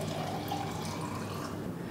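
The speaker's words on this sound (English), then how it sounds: "So just go ahead and give that a pour." Homemade chicken stock poured from a container makes a steady, close liquid rush that runs unbroken and fairly loud, with no talk.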